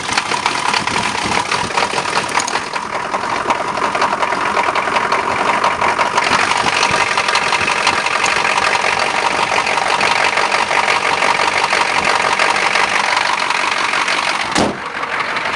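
A K5 engine on a cold day, with a suspected bad glow plug or injector, running at a steady, rough idle close by, a continuous loud clattering drone with a brief dip near the end.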